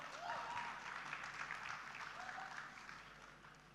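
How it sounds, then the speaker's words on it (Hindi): Faint applause from a summit audience in India, a broad wash of clapping that slowly fades, with a few higher whoops or calls at the start. "जोरदार तालियां हो जाएं"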